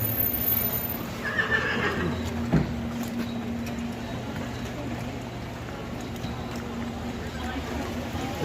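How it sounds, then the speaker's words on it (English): A carriage horse on a town's main street in Gettysburg, Pennsylvania, gives a whinny early on, set against steady outdoor background noise. "If you heard a horse, he's right down here on the main street."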